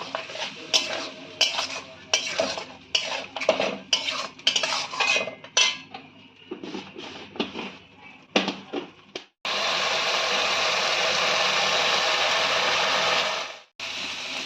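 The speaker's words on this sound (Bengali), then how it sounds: "এবার সব কিছু দিয়ে ভালো করে পটলটাকে কষিয়ে নিতে হবে।" Pointed gourd sautéed with turmeric and spices is stirred briskly in a pan, a spatula clinking and scraping in quick bursts up close, then a loud steady sizzle takes over near the end.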